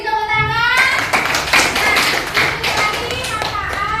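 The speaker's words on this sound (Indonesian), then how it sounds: "beri tepuk tangan" A classroom group claps at a school guidance lesson on using mobile phones, a dense burst of hand claps lasting several seconds, with a voice speaking over the start.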